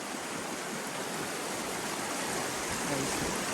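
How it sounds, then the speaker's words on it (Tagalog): A mountain river flows in a steady, dense, broadband rush of water with no breaks, close and constant throughout. "andito tayo ngayon sa ilog natin"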